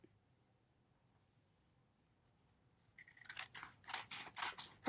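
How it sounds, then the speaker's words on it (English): Scissors snip through paper while cutting around a Halloween cutout, several quick crisp cuts that start partway through after quiet and grow louder toward the end, close by. "you're going to get your scissors and you're just going to cut around it"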